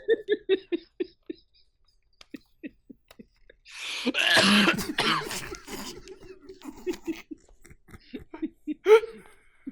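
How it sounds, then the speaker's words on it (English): A burst of harsh coughing erupts amid a string of short voiced sounds, followed by scattered breathy noises and a final sharp cough. "How's that sick cough coming for you?"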